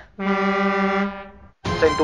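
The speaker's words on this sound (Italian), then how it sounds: "Sento un clacson di un camion." A loud, sustained truck air horn blares steadily for over a second, then cuts off abruptly before a short burst of noisy sound.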